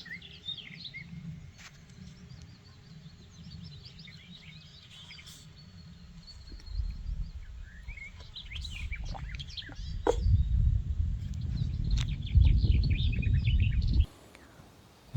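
Birds chirp and trill over a farm on a quiet morning, with a steady chorus of high calls throughout. A low rustling, pattering background swells toward the end, and there is no talking.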